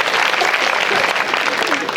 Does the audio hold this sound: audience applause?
yes